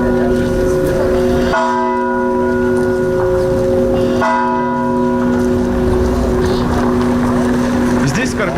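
Church bells ringing for a rural funeral procession with military honours, loud sustained tolling tones struck twice and left to ring on, with someone narrating over them throughout.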